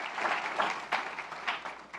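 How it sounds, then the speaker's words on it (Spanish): A church congregation claps briefly during a Spanish-language service, a short burst of scattered, uneven hand claps with a few louder peaks, moderately close and without voices. "Denle un aplauso al Rey, por favor."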